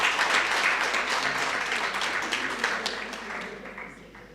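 An audience at the official opening and renaming of the Ibhayi building claps for the officials: a broad, even wash of many hands, fairly close and loud at first, gradually thinning and fading.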